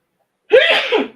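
A single sharp sneeze bursts out suddenly after silence, close and loud, with a short breathy tail.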